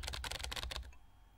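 Rapid keyboard typing in the video game Emily is Away Too, a quick burst of close, clattering keystrokes lasting under a second before trailing into quiet.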